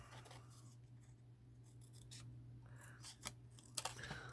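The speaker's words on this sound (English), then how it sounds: "Now I'm just going to take my pair of scissors and cut this out." Scissors cutting out a hand-drawn paper stamp design, heard as faint, close snips and crisp paper rustles that get sharper toward the end over a low steady hum.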